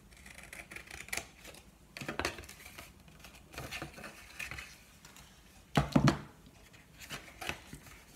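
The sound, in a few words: cutting paper with long scissors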